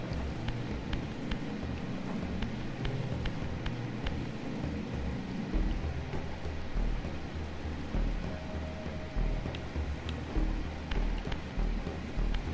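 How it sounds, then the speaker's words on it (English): Steady rain and distant rumbling thunder in the video game Legacy of Kain: Soul Reaver, a dense, continuous hiss with scattered sharp drips and low rolls throughout. "Oh, we are in the rain now."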